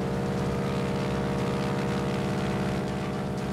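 A warplane's propeller engine droning under boost in the World of Warplanes video game, a loud, steady buzzing hum with no voices.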